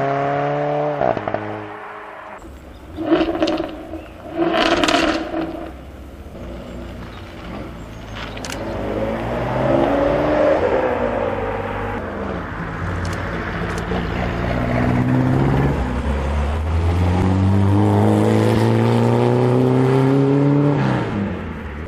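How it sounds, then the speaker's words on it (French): An Alfa Romeo 4C Spider sports car at a Paris rally revs its engine loudly nearby, with rising and falling harmonic sweeps and sustained throttle building toward the end, no voices. "Alfa Romeo 4C Spider. Oh, ce son."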